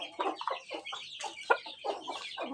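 Broody hen clucking in rapid repeated bursts, close and fairly loud, with no one speaking.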